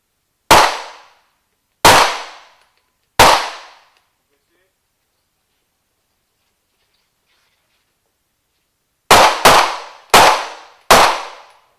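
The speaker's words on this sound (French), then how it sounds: "Voilà, on tire à balles réelles" Live-fire shots from Sig Sauer automatic pistols on a firing range: three sharp, loud reports spaced about a second apart, then a long silence, then a quicker burst of four more shots.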